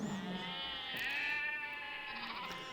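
Sheep on a ranch with a large flock bleat in wavering, overlapping cries that rise and fall across a few seconds, heard fairly close against a low background murmur.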